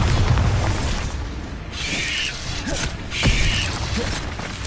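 Bombarda spell blasts in the video game Hogwarts Legacy, heard as two dull booming bursts within dense, continuous mechanical game noise and rumble, fairly loud throughout.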